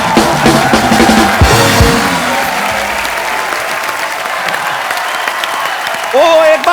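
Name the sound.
studio audience applause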